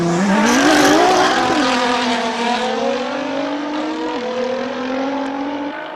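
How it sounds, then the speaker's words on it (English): Nissan GT-R R35 race car climbing a hill at a speed event, loud engine roaring near and holding a steady high pitch, a brief rising rev early and a slight drop midway, faint tire squeal underneath, no talking. "That Nissan GTR sounds amazing."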